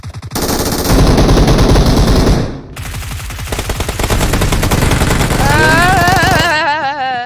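Sustained automatic gunfire in a ranked online shooter game, loud rapid bursts running across the whole stretch with a brief lull, followed by rising electronic warbling effects near the end.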